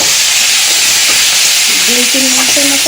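Chopped vegetable bhaji, Malabar spinach, sizzles loudly in a pan in a home Bengali kitchen, a dense, steady frying hiss close up, with a voice talking faintly underneath.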